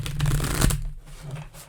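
Tarot cards are riffle-shuffled close up. There is a quick, dense flutter of cards, and then a softer settling riffle.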